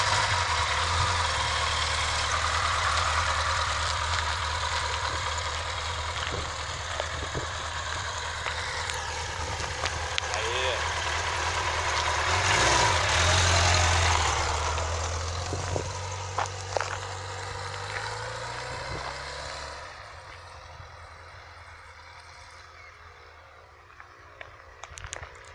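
A Kawasaki KZ1000 police motorcycle engine idles close by in a steady, low rumble, swelling slightly midway before settling and fading quieter toward the end, with occasional small clicks and knocks.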